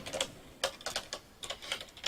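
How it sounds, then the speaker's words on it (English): Computer keyboard keys pressed one after another in quick irregular clicks, faint and close, with short pauses between bursts and no talking. "The sound you can hear is me pressing every button on my keyboard."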